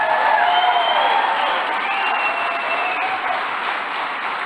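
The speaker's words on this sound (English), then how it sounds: "let's give her a huge round of applause" An audience at the Nixon Presidential Library applauds loudly and steadily, with crowd noise fading slightly toward the end and no speech over it.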